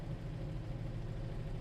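A 1970 Plymouth Cuda with a numbers-matching 440 U-code V8, freshly started, idles at a steady low rumble, close by and even, with no voices over it.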